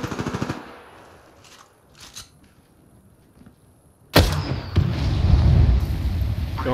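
Gunfire in the shooter Apex Legends: a short burst of rapid shots opens, a quiet stretch with faint clicks follows, then heavy, loud sustained automatic fire erupts to the end.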